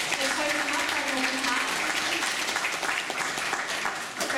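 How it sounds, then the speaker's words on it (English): An audience at the Polynesian Cultural Center on Oahu, Hawaii, gives a round of applause during a cultural ceremony demonstration, a sustained wash of clapping with a voice speaking over it. "A big round of applause for your chief, ladies and gentlemen"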